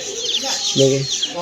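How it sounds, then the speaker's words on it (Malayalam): Native country chickens in a pet shop give a few short clucks and chirpy calls among other bird sounds, with a steady bright background and one brief low-pitched call in the middle. "നാട്ടിലെ ഒറിജിനൽ കോഴികൾ നാടൻ കോഴികൾ"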